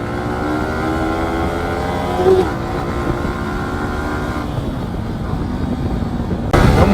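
A Yamaha R15 motorcycle on a road in Coorg, its engine droning steadily and close with shifting pitch, as if riding along or passing, with a brief louder surge at the end.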